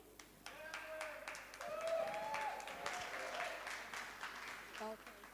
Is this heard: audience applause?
yes